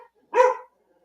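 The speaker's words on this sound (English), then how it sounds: "That's just my dog going nuts here." A single short, sharp bark from a dog indoors, close and fairly loud, rising out of near silence and fading quickly.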